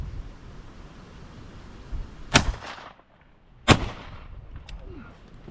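Two loud shotgun blasts ring out about a second apart during pigeon shooting over decoys, each a sharp crack with a short outdoor tail over a low background rumble.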